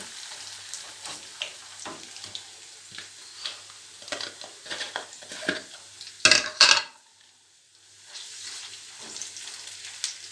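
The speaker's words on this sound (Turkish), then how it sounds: "Soğanını kavuruyorum. Kızarttım gördüğünüz gibi." Onions frying in a pan in a home kitchen, a soft sizzle broken by the scrape and clack of a spoon stirring, with a couple of louder metallic knocks before the sizzle settles again.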